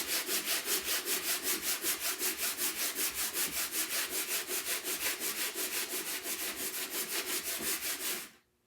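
A sanding block rubs back and forth across a surface in quick, even strokes, a steady rasping rhythm close up before stopping.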